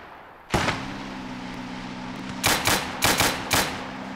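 Anti-tank gunfire in the Gates of Hell World War II strategy game: one sharp blast with a ringing tail, then a quick cluster of four more shots about two seconds later, moderately distant and heard alone.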